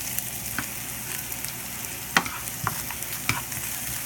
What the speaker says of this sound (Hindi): देसी घी में जीरा डालिए।